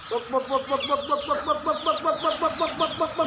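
Free-range native hens clucking in a rapid repeated rhythm, a series of short throaty calls close by, with a chick-like chatter in the background.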